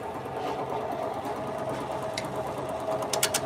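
A wood lathe turns a hollow form while a half-inch bowl gouge cuts, giving a steady, even whirring drone with a faint rough scrape and a few brief high clicks near the end.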